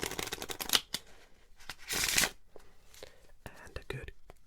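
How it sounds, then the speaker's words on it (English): Playing cards are riffle shuffled in a quiet ASMR solitaire session, several fast fluttering bursts of cards close up, separated by lighter taps and handling sounds, with soft speech between them. "Give it a riffle shuffle as well."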